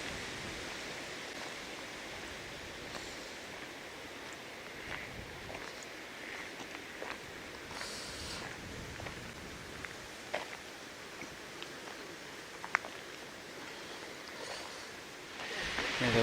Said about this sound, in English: And the water lapping on the lake's edge.